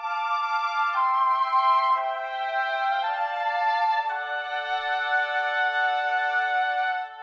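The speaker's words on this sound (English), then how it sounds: "Our kind of choir is two flutes, two oboes" Two flutes and two oboes voiced in octaves and thirds sustain a slow chordal line in the high register, held notes shifting pitch roughly once a second, smooth and steady at moderate loudness, with no talking.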